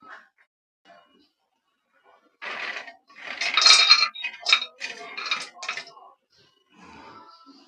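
Cashews, almonds and pistachios are dry roasted in a hot kadhai, rattling and clinking in close, irregular bursts as they are stirred, with quiet gaps before and after.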